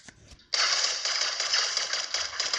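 Automatic gunfire in the mobile shooter game Nova Legacy, a sustained dense rattle of rapid shots that starts abruptly after a brief quiet moment and continues steadily at close, loud level without pause.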